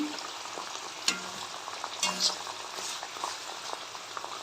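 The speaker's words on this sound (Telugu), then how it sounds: "లో ఫ్లేమ్లో పెట్టి చాలాసేపు మనము బాయిల్ చేసుకోవడం బెటరు" Herbal hair oil simmering in a pan over a low flame, giving a soft steady bubbling and faint crackle with a few louder clinks and stirs, close and quiet, no voices.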